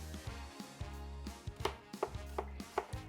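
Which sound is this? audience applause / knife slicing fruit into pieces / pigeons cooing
knife slicing fruit into pieces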